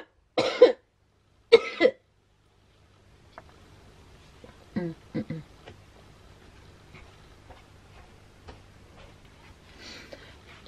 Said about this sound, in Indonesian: Jadi tuh gitu batuknya, gatel pisan kalau pagi-pagi gitu.